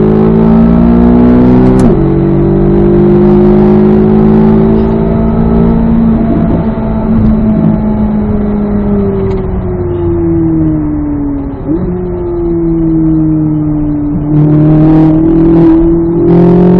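Race car engine droning loud and close from onboard on a track, pitch rising and falling smoothly through gears and throttle changes, with a brief dip near the middle.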